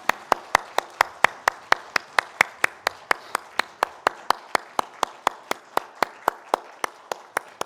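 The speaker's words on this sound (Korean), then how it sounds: "하나님께 영광의 박수 올려드리겠습니다." A church congregation claps in a steady, even rhythm, about three sharp claps per second sounding together, crisp and unbroken for several seconds.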